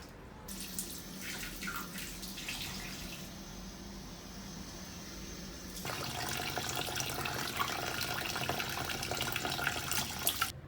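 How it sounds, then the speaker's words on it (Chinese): Pig large intestines being rinsed under a running kitchen tap, a steady splash and trickle of water that grows louder and busier in the second half as the washing picks up. "翻好后，我们给外面再清洗一遍哈"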